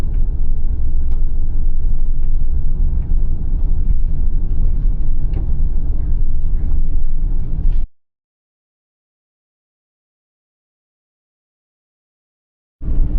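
A car drives along with a steady, loud, low rumble for several seconds. The sound then cuts to silence before briefly resuming, with no talk.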